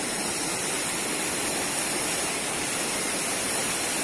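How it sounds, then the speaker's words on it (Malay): A river flows past a campsite as a steady, close, broadband rush of water, constant and unbroken with no voices. "Ini pemandangan sungai depan kemah kami."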